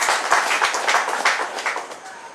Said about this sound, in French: Donc vous pouvez quand même applaudir,